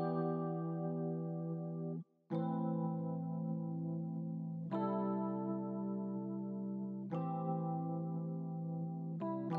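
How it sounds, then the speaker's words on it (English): Mellow Rhodes electric piano chords from Omnisphere ring out in long sustained blocks, restruck every couple of seconds with a brief gap early on, warm and steady. "Then I layered that with a Rhodes from Omnisphere that sounds like this."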